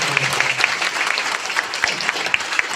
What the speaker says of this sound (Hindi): लाइब्रेरी के जो शहंशाह है दुमका की इस लाइब्रेरी के लिए सर के लिए एक बार जोरदार ताली के साथ